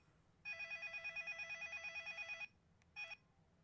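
Telephone ringing with a warbling electronic trill, one long two-second ring followed by a short burst, fairly faint against a quiet background.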